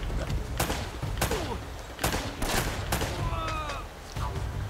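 Shotgun blasts in the video game Uncharted: Drake's Fortune, several loud broadband booms at irregular intervals amid gunfire and game effects, with a brief metallic ringing tone near the end.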